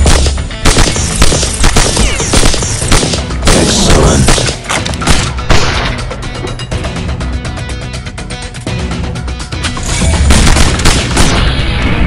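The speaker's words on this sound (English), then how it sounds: "Frag incoming!" Frag grenade blast in a video game firefight, a loud boom buried in nonstop gunfire and dense battle noise that carries on throughout.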